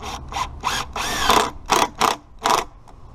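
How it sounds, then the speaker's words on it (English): Power drill driving 3-inch Torx-head screws into wooden fence boards for a privacy fence, heard as a series of short, loud, close whirring bursts, roughly eight in a row with brief pauses between them. "let's go ahead and drive in 3-inch screws now"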